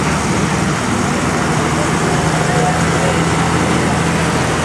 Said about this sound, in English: Nice looking tractor there, the John Deere 4440.